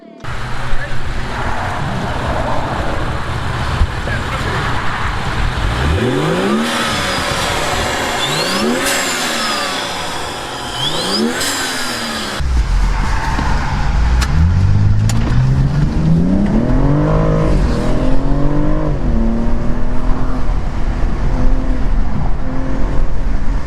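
A BMW M235i engine with an aftermarket BMS intake revs up and down in repeated bursts, then settles into a loud, throaty drone with a rising rev, close by and continuous.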